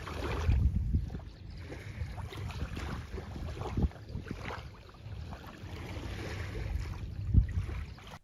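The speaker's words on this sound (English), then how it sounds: "listen to some waves crashing the shore" Ocean waves crash and wash onto a peaceful beach shore in a steady, rumbling surge with heavy wind buffeting the microphone and a couple of deeper thumps as breakers land. No one speaks.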